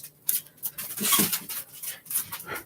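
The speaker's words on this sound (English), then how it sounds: "My dogs would pick right now to start playing with me." Dogs playing indoors give short high whimpers and yelps in quick irregular bursts, close by and fairly loud, with no one talking.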